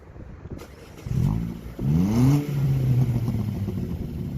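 Vauxhall Astra H 1.4 SXi with its muffler (backbox) and resonator deleted revs up close by, rising in two strong sweeps before settling into a deep, loud, steady drone with a few crackles.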